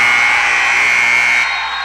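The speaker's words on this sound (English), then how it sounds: "Caseland at the buzzer with her third three-pointer of the quarter" A basketball game-end buzzer at a girls' high school game, sounding as a loud, sustained electronic tone throughout and cutting off sharply near the end.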